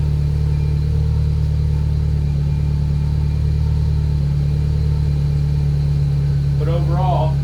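A 2007 Subaru STI engine runs steadily at idle, its low rumble joined by a constant whine from a noisy alternator bearing; a brief voice cuts in near the end.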